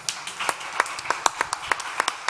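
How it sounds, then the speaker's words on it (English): Scattered claps ring out from a summit stage audience welcoming a panel guest, a thin, uneven patter of individual hand claps with distinct sharp peaks rather than a full roar, moderately near and fairly quiet. "big applause, come on"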